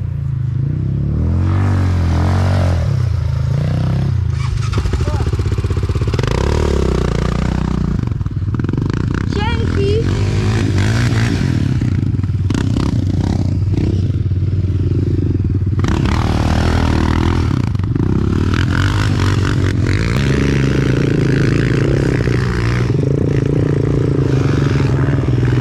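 A Yamaha Raptor 700 quad revs hard close by with a loud, booming exhaust. The engine note rises and falls in bursts over a steady rumble, and voices are heard alongside it.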